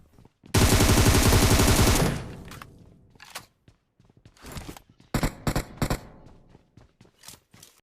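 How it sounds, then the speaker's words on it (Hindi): A loud, continuous burst of rapid automatic gunfire in PUBG Mobile, followed by scattered shorter volleys and single shots at varying distances. "अब गोली चल रही थी हद से ज्यादा"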